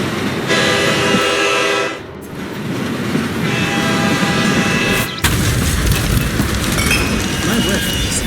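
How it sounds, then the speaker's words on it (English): Train arriving at a station in the Hitman video game's Mumbai mission, a loud steady rumble with horn-like tones, a brief drop near the middle and an abrupt shift to a noisier roar. "So the train finally arrived and now I could kill both of them."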